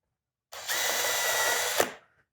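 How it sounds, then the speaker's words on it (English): A power drill with a centering drill bit whirs at high speed for over a second, close and steady, drilling a hole in a noodle board stove cover, then winds down abruptly. "I'll just hold a little pressure there. Take my centering drill bit."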